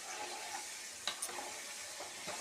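Brinjal pieces with salt and turmeric are stirred and flipped in a frying pan. A faint, steady sizzle runs throughout, broken by a couple of brief scraping knocks from the spatula.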